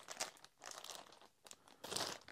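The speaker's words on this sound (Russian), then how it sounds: "В комплектации с пылесосом идет набор из таких 10 пакетов." Plastic-wrapped dust bags for a Makita DVC150L vacuum cleaner crinkle and rustle in several uneven bursts, close and fairly loud, with brief quiet gaps between handlings and no talking.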